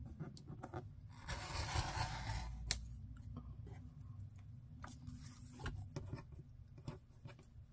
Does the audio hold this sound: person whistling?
no